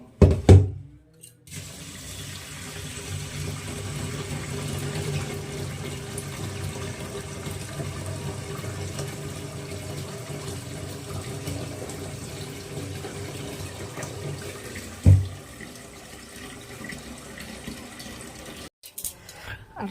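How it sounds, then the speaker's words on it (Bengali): Tap water runs steadily into a vessel while rice is rinsed by hand at home, a continuous moderate splashing flow lasting most of the stretch, with a brief knock near the end before it stops. "আর চাল ধোয়া হয়ে গেছে"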